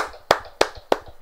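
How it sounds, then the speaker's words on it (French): Four sharp hand claps from a man, evenly spaced and close, with faint sound between them. "Ah, je m'applaudis, mesdames et messieurs."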